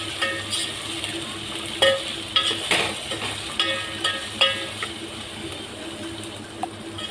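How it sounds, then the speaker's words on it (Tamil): Tomatoes frying with onions in a pan for Tamil mutton kulambu, stirred with a utensil, giving a steady sizzle punctuated by repeated metallic scrapes and clinks close by. "தக்காளி சேர்த்துட்டு நல்லா கிளறி விட்டுருங்க"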